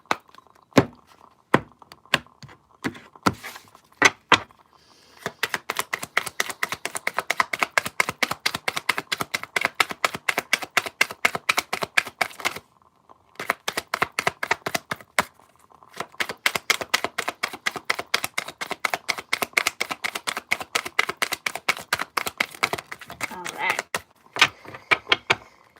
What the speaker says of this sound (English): I'll cut the deck